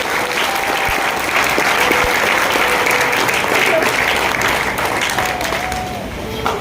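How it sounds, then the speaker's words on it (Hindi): Crowd at a business plan presentation in Kandivali gives a long round of loud applause, a continuous close clatter of many hands, with a voice briefly surfacing over the clapping. "पहले तो आप लोग के लिए जोरदार ताली हो जाए"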